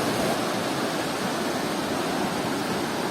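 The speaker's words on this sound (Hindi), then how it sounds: "ये जो नदी बह रही है, ये पार्वती नदी है।" The Parvati river flows as a steady, dense roar of rushing water near a bridge, loud and constant throughout with no voices.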